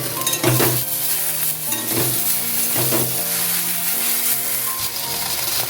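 Slit green chillies sizzle loudly in a pan of low-oil okra and potato curry, with continuous crackling frying and several scraping stirs close by, and no talking.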